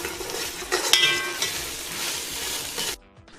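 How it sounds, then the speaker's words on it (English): Ginger garlic paste sautés in a pan, a loud close sizzle with stirring scrapes and a metallic clink, running steadily before cutting off abruptly near the end. "Now add the ginger garlic paste and saute till the raw smell goes."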